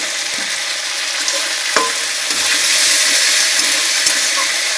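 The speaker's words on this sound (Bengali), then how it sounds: "ছোটো এলাচ, বড় এলাচ, দালচিনি, লবঙ্গ, আদা কুচি, কাঁচা লঙ্কা কুচি একবারে তেলে করে দিয়ে দিলাম" Bay leaf, cumin, green and black cardamom, cinnamon, cloves, chopped ginger and green chilli dropped into hot oil in a heated kadai, giving a loud, steady sizzle with a few sharp clicks and pops throughout.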